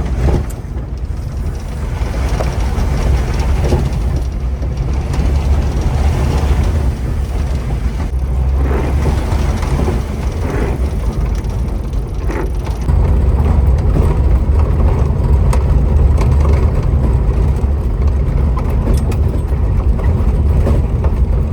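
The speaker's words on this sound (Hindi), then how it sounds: "रास्ता इतना ख़राब है गाइस कि हम गाड़ी को तेज़ भी नहीं चला सकते हैं" A car creeping slowly along a rough, potholed jungle road in tiger territory, its engine a steady low rumble with body and suspension noise throughout, loud and close with no talk.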